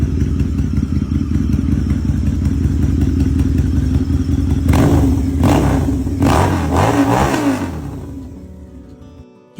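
A blue 2006 Harley-Davidson Night Rod cruiser with 26,000 miles idles with a steady deep rumble, then revs several times in loud, close bursts before settling and fading toward the end. No one speaks.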